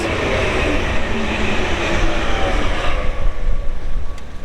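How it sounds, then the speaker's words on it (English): A train rumbles past close by, a steady heavy roar of wheels on rails that fades slightly toward the end. "First train of 2025 for you guys."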